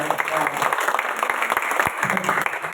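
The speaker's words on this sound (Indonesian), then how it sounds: "Kasih tepuk tangan yang meriah." Congregation applauding during a Sunday worship service at GBI Sungai Yordan church in Depok, a loud, steady wash of many hands clapping that fills the whole stretch with no pause.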